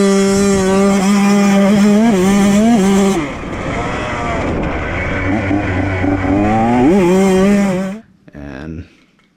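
A two-stroke dirt bike held at pinned throttle, its engine note climbing in loud, harmonic-rich revs and dropping briefly at each gear shift, then cutting off sharply near the end.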